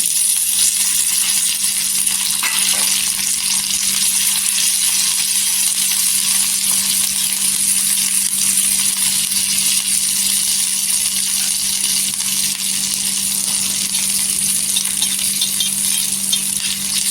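Green chili thecha with salt and coriander fries in a small amount of oil in a pan, giving a loud, close, steady sizzle that carries on evenly without pause.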